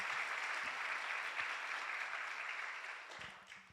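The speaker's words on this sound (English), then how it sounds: "I really want to give a round of applause to Dr. Kim's family." An audience at an inauguration ceremony claps in dense, sustained applause, steady and fairly loud, then tapering off toward the end, with no talk.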